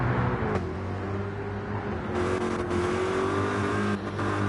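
A V8 Supercar engine droning steadily in a racing game at Road Atlanta, a loud sustained whine with shifting pitch as cars pass, alone without talk.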